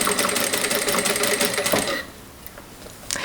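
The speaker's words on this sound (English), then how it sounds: "everything I pinned using a straight stitch" A sewing machine runs a straight stitch seam on linen with a fast, even rattling whir, close and loud, then stops abruptly, leaving a few faint clicks.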